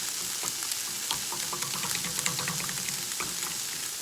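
Tofu scramble sizzling and frying in a pan while being stirred, a steady dense hiss with scattered soft scraping and clicking of the utensil throughout, close and alone.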